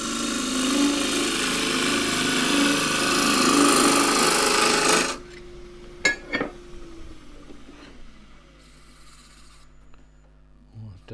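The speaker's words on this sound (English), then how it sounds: "Back to the thin one, the smaller gouge to start with, just to get me a bit further around the corner here." A small gouge cutting a thin wooden pot spinning on a lathe makes a loud, continuous rasping scrape for about five seconds, then stops, leaving the motor hum and a few knocks and clicks.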